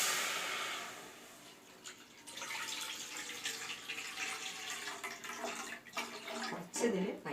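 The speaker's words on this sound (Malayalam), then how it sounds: "ഇനി നമ്മളതിലേക്ക് പാൽ ഒഴിച്ചു കൊടുക്കണം." Milk pours into a pan on the stove for Kerala-style palada payasam, a soft, continuous splashing stream that stays fairly quiet and close throughout.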